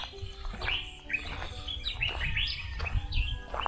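Several birds chirp and tweet in quick, overlapping bursts against a low outdoor rumble at 5 a.m. in Africa, fairly close and clear.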